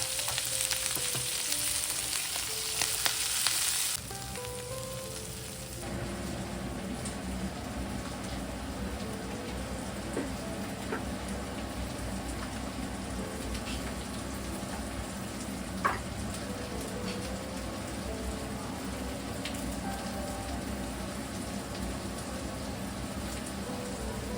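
Onion stalk chorchori fries steadily in a pan, a dense, even sizzle like light rain that runs throughout. A brief tonal sound rides over the first few seconds, and no one speaks.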